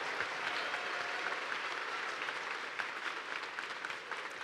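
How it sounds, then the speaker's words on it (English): An audience at a FIRST robotics state championship in Michigan gives steady, full applause for sponsor Aramco, a dense wash of clapping from a large crowd holding even throughout. "So let's give Aramco a huge round of applause for buying our 6th trailer."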